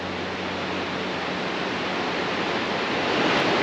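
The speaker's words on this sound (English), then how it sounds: "waterfalls drop in right behind the spillway and the dam" Steady, loud broadband roar of Gorge Creek Falls in North Cascades National Park, a river and waterfall plunging behind a dam spillway, rushing continuously and evenly with no voices.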